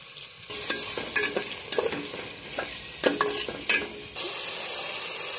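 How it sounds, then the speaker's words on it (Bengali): Onion with ginger and tomato frying in a pan for aloo dum, a continuous loud sizzle punctuated by repeated clattering stirs and scrapes of a spatula, then a smoother hiss at the end. "আলু দম করার জন্য এখানে পেঁয়াজটা ভেজে নিচ্ছি।"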